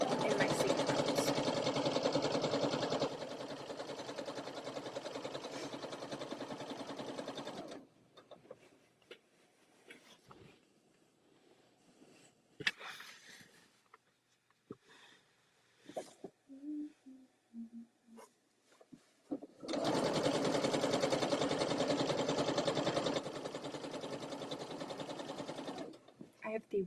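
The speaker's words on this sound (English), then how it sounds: "I'm going to sew here, and then I'm going to sew another line going down" A sewing machine stitches a seam in loud, fast continuous runs at the start and again near the end, with a quieter stretch between holding scattered handling clicks and small noises.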